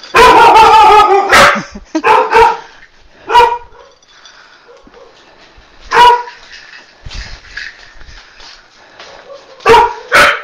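A dog barks loudly and close by at home, with a burst of rapid barks, then scattered single barks and yips separated by quieter gaps.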